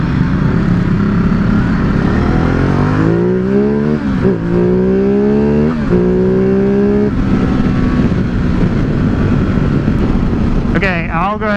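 A 2017 Ducati Multistrada 950 motorcycle pulls hard in first gear, its engine note climbing in rising harmonic sweeps with a brief dip mid-run, loud and close over constant wind rumble.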